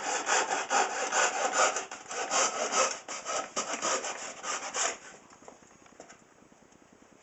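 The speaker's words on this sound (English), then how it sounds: "I'll come back through here with a file and I'll open that up little by little" A hand file works back and forth through a slot in a wooden cigar box guitar neck, making steady rhythmic rasping strokes up close for about five seconds before it fades to quiet.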